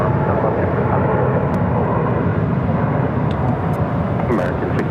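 A Boeing 737-700 in Florida One livery, inbound from Burbank to Phoenix, makes a broad, steady jet roar that holds loud and even for the whole stretch, with no voices.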